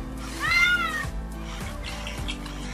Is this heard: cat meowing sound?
yes